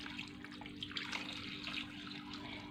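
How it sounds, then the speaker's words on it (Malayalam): Water is poured into a pot of curry made with Chinese potato and elephant foot yam, making a faint, continuous trickle and splash at close range. "ഇത് ഞാനൊരു നിലക്കെ വെള്ളം ഒഴിക്കുന്നുണ്ട്"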